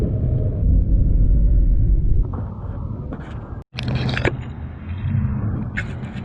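A van driving uphill through City Terrace in Los Angeles gives a low, steady interior road rumble with shifting engine and tire noise and a brief cut partway through.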